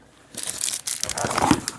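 Thin plastic bag that holds a Ketuo Griffin G10 knife being handled, giving close, steady crinkling and crumpling rustles that start after a brief quiet moment and continue throughout.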